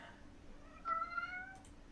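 A cat gives a single clear meow, rising then falling, fairly close but quiet against a faint room background.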